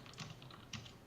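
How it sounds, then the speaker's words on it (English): Typing on a computer keyboard: a short, faint burst of clicky keystrokes with two slightly stronger taps, heard alone. "Typing sounds."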